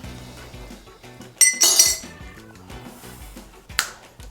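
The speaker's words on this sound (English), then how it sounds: "we have ice in the glass" Ice cubes clinking into a glass while a mezcal cocktail is made, a few bright close clinks and rattles over quiet background music, with no talking.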